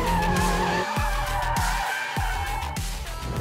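A McLaren 720S with two-wheel drive accelerates hard, its engine roaring loud and close with a rising tone broken by quick shift cuts, while skidding tire noise runs underneath.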